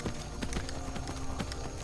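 A horse gallops at full sprint in Skyrim VR, its hooves giving a quick, rhythmic clip-clop over a steady game background, moderately loud.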